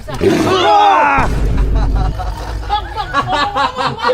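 A large tiger gives a loud, close roar that rumbles into a low growl, with a crowd of people chattering and talking around it.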